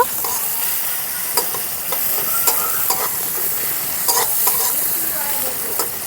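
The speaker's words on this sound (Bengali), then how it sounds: "পেঁয়াজ কুচি ভালো করে ভেজে নেব" Chopped onion fries in hot oil with bay leaf in a pan, giving a steady close sizzle broken by a few sharp scrapes and clinks of a stirring spoon against the pan.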